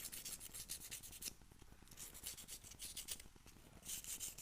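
Steady abrasive rubbing as carbon fiber is sanded for a micro FPV quadcopter build, strokes scraping back and forth at close range with a continuous gritty hiss, no voices.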